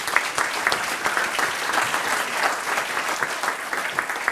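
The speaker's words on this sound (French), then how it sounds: "Je crois qu'on peut applaudir Frédéric." An audience at an entrepreneurs' round table applauds Frédéric, giving steady, dense clapping that holds at an even level from start to finish.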